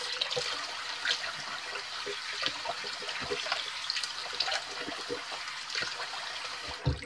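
Tap water runs steadily into a sink during a wet shave, a continuous splashing hiss with small irregular drips and clinks throughout, close by, with no talking.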